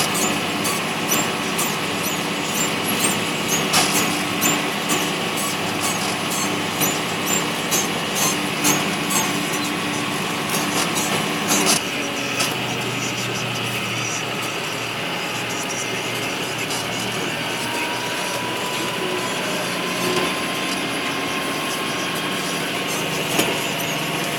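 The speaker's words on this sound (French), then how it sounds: "ça c'est un tracteur qui vient de chez le body." Tractor passing by, a steady, drawn-out engine drone with a rattling, scraping edge that changes tone midway and lingers at a moderate distance.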